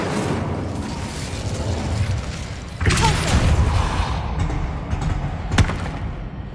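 The Incendio fire spell is cast in Hogwarts Legacy, a sudden whooshing burst at about three seconds followed by roaring flame noise and a second sharp burst near the end.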